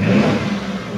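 A 2015 Mitsubishi T120 SS pickup engine revved toward 3000 RPM, a loud mid-pitched roar up close that peaks early and then eases slightly as the rev holds.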